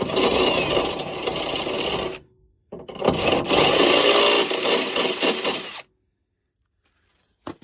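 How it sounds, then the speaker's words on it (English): Step drill bit deburring a hole in a steel fender brace for a Ford F-350 dually, two loud close bursts of whirring grind separated by a short pause, then silence. "Personally, I like to use a step bit to clean up all the burrs and stuff."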